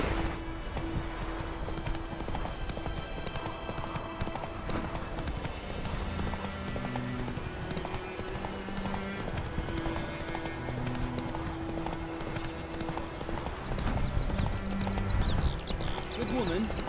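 Roach the horse gallops in the video game The Witcher 3, a steady, continuous drumming of hooves that runs under occasional spoken voices and soft background music.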